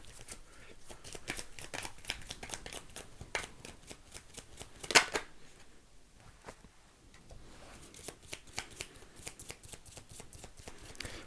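Tarot cards are shuffled steadily for several seconds, a dense run of quick riffling flicks close to the listener, with one sharper snap partway through and no talk.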